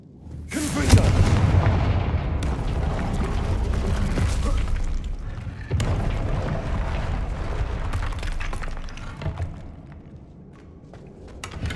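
Blast from the Confringo fire spell in the Hogwarts Legacy video game: a heavy booming explosion with a long rumbling tail, followed by a second roaring burst and sustained low, noisy rumble.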